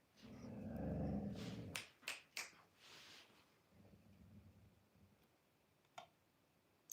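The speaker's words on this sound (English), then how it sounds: "if y'all hear my dog, that's my dog." A dog growls low and close for about two seconds, followed by several sharp clicks and scuffs, then a quieter second rumble and one more click, with no talking over it.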